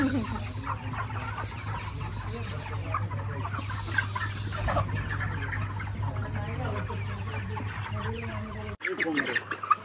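Many chickens cluck and squawk all around at close range inside a poultry farm, with people talking under the flock's steady chatter.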